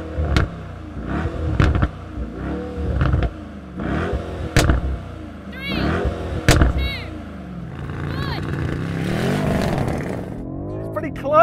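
BMW M5 Competition and Mercedes-AMG E63 S racing side by side, with engines revving hard and repeated sharp upshifts leading into a sustained roaring pull, loud and close, with someone talking over it.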